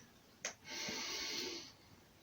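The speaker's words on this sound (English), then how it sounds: "And now just a closing exercise, we're breathing in." A single audible breath drawn in during a closing exercise at the end of a short leg workout, a soft airy inhale lasting about a second, close and alone.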